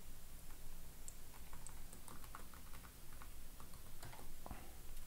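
Quiet keystrokes on a computer keyboard entering a Ctrl X, Ctrl E shortcut in Emacs, a few soft scattered clicks over a faint background hiss.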